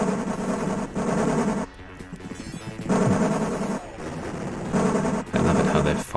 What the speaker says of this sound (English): Give me the high-powered machine gun.